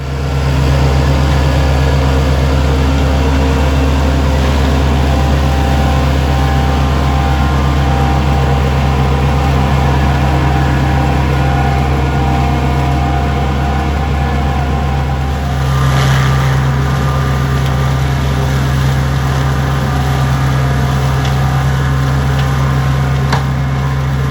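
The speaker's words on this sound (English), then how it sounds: "I'll jump onto the tractor, we'll get the flail up and running" A tractor running a flail mower drones steadily and loudly throughout with a deep constant hum and rattling mechanical texture.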